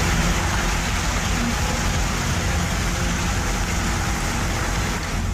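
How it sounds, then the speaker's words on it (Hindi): Heavy monsoon rain pours steadily in a flood-hit area, a dense continuous hiss with no breaks, loud and close, with low rumbling beneath. "मॉनसून की बारिश से मैदान ही नहीं बल्कि पहाड़ भी परेशान है।"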